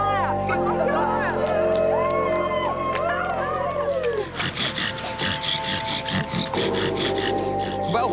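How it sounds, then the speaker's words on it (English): A wooden bow drill spun hard to make fire by friction on a Pacific island, heard as a run of fast, rhythmic rasping strokes that builds midway through, with voices and excited shouting around it. "spinning a bow drill to create heat by friction"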